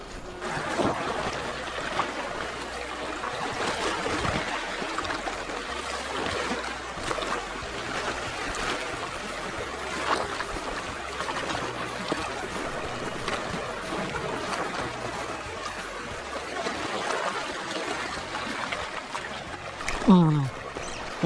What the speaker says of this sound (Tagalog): Dami pa lang ng agos ng tubig dito.